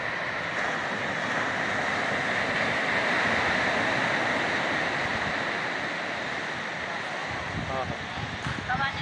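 Ocean waves on a beach make a constant loud wash of surf with heavy wind rumble buffeting the microphone throughout.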